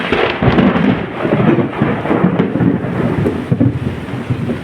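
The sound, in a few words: thunder in a rainstorm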